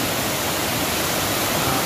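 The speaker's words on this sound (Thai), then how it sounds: "ชั้นอันนี้คือไฮไลท์ของชั้น1ของน้ำตกป่าหวายนะครับ" Pa Wai limestone waterfall in Tak, Thailand roars as a dense, steady rush of falling water, loud and close, with no voices over it.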